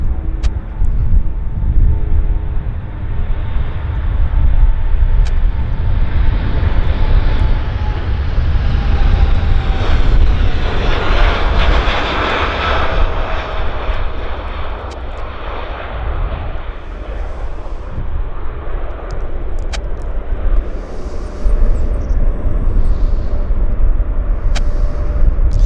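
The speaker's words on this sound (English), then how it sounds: "you could call this aircraft a whispering giant as well" A large airliner climbs out from Vancouver airport, its loud jet engine roar building and passing overhead, then fading slowly over about twenty-five seconds.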